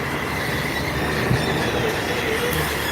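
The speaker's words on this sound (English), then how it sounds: "That's what you hear. Truck going by." A truck rumbles past close by, giving a steady, loud, broadband roar with rolling, grinding texture for a few seconds. No one talks.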